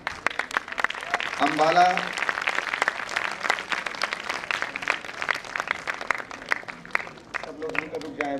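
An audience at a wellness conference's closing function gives sustained applause, dense overlapping clapping filling the hall, with a voice speaking over it and some tonal sounds briefly rising partway through.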